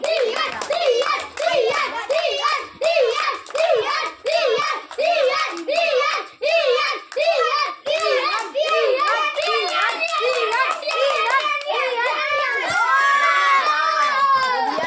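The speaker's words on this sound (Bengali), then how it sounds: "হাততালি দাও সবাই, হাততালি দাও।" Children at a party game clap their hands in rhythmic bursts mixed with loud, high, chanting and excited young voices that build into overlapping cheering toward the end.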